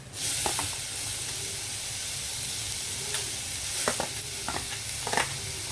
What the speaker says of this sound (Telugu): కారం వేసిన తర్వాత మరి ఇది మాడిపోతుంది, అడుగంటకుండా మనం వెంటనే టమాటో వేసేద్దాం